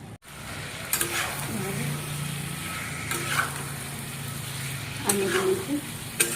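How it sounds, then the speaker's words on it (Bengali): Boiled potatoes are stirred in a pan with a little water and green chilli, giving a soft, steady sizzle with occasional clinks and scrapes of the spoon close by. "সামান্য জল দিয়ে নাড়াচাড়া করে এর মধ্যে একে একে করে আলুগুলি দিয়ে দেবো"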